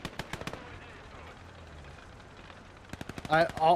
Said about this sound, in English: you give them charge suppressing fire, so they'll just hose.